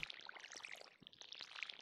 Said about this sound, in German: Und dann geht's ans Gießen.